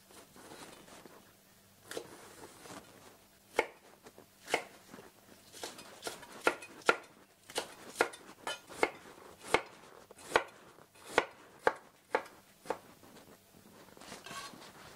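A knife chops spring onions into thin strips, making a steady run of crisp, close cutting knocks that quicken toward the middle, with no talk.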